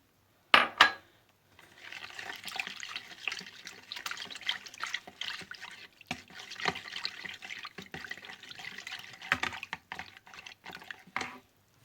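Hot water poured into a bowl of dough ingredients already holding salt, for a tahini bun dough, giving a steady close splashing trickle for about ten seconds with a few clinks against the bowl at the start and end.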